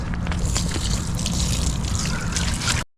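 Water from a foldable dog swimming pool trickles and splashes steadily and close up for a few seconds, then cuts off abruptly.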